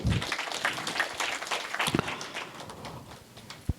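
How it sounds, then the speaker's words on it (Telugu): An audience at a motivational seminar claps together in a dense, steady burst of applause that thins out toward the end. "చప్పట్లు"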